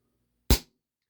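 A single sharp shot from a WE Tech Bulldog 6mm gas blowback airsoft pistol: one loud, close crack with a quick decay, followed by near silence.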